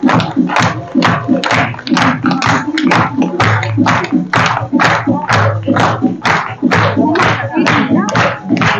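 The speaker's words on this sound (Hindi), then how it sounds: "तालियां बजाना चाहिए" An audience at a song-and-music evening held by a welfare society claps: dense, continuous applause with fast, irregular clapping that stays loud and even for about nine seconds, with crowd noise mixed in.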